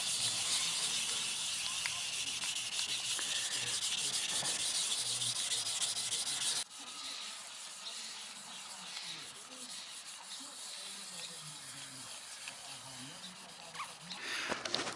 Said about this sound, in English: just gonna sand it down 400 grit